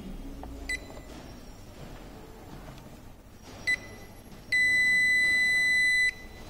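A multimeter set to continuity while testing a vehicle ignition switch gives a steady electronic beep lasting about a second and a half, preceded by a couple of brief faint chirps over quiet background hum.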